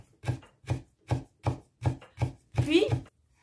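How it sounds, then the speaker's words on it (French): A knife finely slices a rolled herb on a cutting board, with seven or eight distinct close chops in an even rhythm and a final quicker flurry of cuts. "l'enrouler et venir l'émincer très finement"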